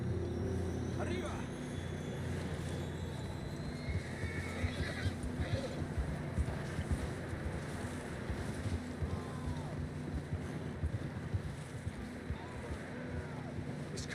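Horses whinny a few times over steady rumbling background noise and hoof clatter, with voices calling out now and then, in Red Dead Redemption 2.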